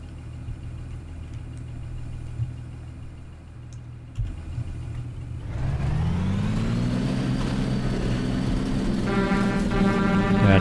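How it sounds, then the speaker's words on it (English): A 2008 Blue Bird Vision school bus in the Rigs of Rods driving game idles with a low engine drone, then the engine revs up into a rising whine. A faint tonal horn enters near the end. "That default horn is not loud at all."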